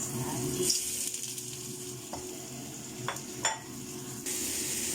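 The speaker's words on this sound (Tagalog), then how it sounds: "Igisa ko muna ang mushroom" Mushrooms are sautéing in a pan with a steady, soft sizzle, punctuated by a few brief clinks and scrapes of a utensil stirring against the pan.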